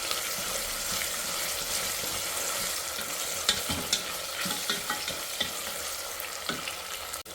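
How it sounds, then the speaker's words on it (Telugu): Chopped tomato fries in a pan for radish sambar, with a steady close sizzle and occasional stirring clinks and scrapes. "సో టమోటా అయితే కూడా బాగా ఫ్రై అయిపోయింది"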